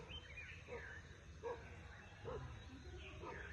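A distant dog gives a few faint, evenly spaced barks over a steady outdoor rumble.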